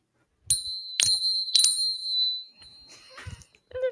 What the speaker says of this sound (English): I forgot to clink my little bell earlier.